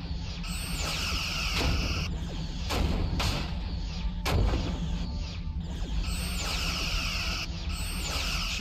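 Starship weapons fire in a Star Trek Bridge Commander space battle, with repeated whooshing beam and torpedo blasts over a constant low rumble and mechanical hum, several bursts spread evenly across the stretch.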